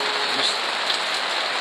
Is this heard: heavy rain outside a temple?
yes